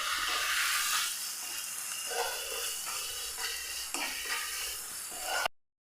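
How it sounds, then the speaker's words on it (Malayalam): Spice powders stirred into egg roast masala in a pan give a soft continuous sizzle and hiss with light scraping strokes, steady and close, before cutting off abruptly. "നല്ല പോലെ ഒന്ന് മിക്സ് ചെയ്തെടുക്കാം"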